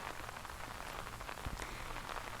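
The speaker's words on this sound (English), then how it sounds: "I actually like the rain, and it will not make me depressed." Steady soft rainfall patters on a surface during a storm, a dense even hiss of drops with scattered closer taps, quiet and continuous with no voice.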